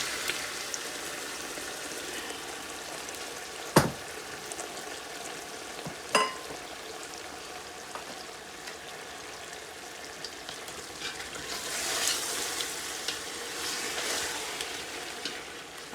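Chicken pieces fry with softened onions in a karahi, a constant bright sizzle that swells louder near the end, punctuated by a couple of sharp utensil knocks against the pan, close and with no speech.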